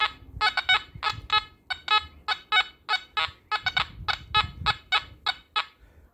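A metal detector set to high gain chatters in quick, irregular bursts of buzzy electronic tones, close and fairly loud, with short gaps between each burst.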